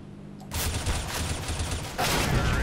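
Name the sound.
gunfire in the video game CS:GO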